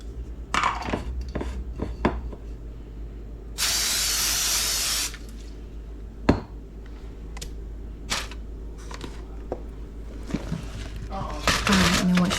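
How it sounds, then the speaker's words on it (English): Cooking spray is sprayed onto aluminum foil lined in an air fryer tray: one steady hiss lasting about a second and a half, surrounded by clinks, taps and handling noises of kitchen work. "spray that down like you did with the steak."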